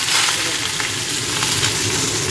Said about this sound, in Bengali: এই যে কড়াইয়ে তেল নিয়েছি, এখানে একটু পাঁচফোড়ন দিয়ে দিই